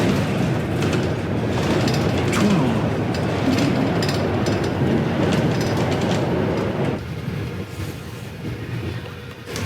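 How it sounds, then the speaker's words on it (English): A short ride on Istanbul's historic underground funicular-style subway, among the oldest in the world, gives a steady rumbling roar of the moving car with wind and rail noise, easing off near the end; no talking. "That was the shortest subway ride in the world, but the second oldest in the world."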